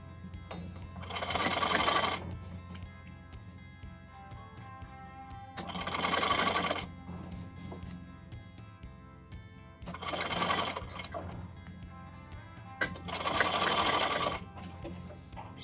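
A sewing machine stitches a fabric strip for a designer choli in four steady whirring runs of about one to two seconds each, separated by quiet pauses, close and clear with no talking.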